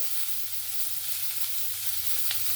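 Onion and tomato sizzling in a frying pan for a chicken curry, a steady close hiss with one faint clink near the end.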